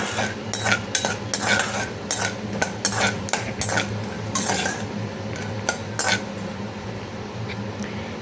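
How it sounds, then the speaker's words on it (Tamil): Peanuts being dry-roasted and stirred in a pan for masala puliyodharai (tamarind rice), a dense run of rattling, scraping spoon strokes and clattering nuts against metal over a faint sizzle, close and busy throughout, no voices. "நிலக்கடலை நல்லா ஓரளவு வறுத்து வந்துடணும்"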